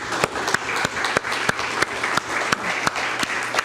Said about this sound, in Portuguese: vou dar uma salva de palmas para o Senhor